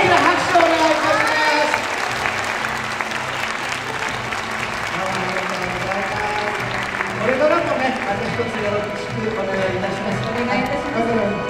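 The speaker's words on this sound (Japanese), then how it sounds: "大きな拍手をお願いします。" Audience applause fills a Chindon contest opening ceremony hall, a steady dense clatter of clapping that runs the whole time under a host's amplified voice.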